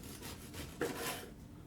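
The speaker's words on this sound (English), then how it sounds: "So I'm going to go ahead and slice all of these up." A knife sawing through a baked gluten-free biscotti loaf, a quiet close rasping scrape in a few strokes with one brief crisper crunch.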